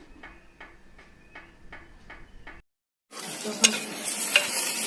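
Marinated mutton coated in curd and ginger-garlic paste going into a clay pot on a wood-fired village stove, first some rhythmic tapping, then a brief silence before a loud, steady sizzle with crackles.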